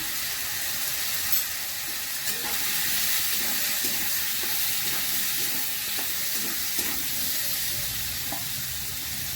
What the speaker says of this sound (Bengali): এবার এটা একটু ভাজা হবে।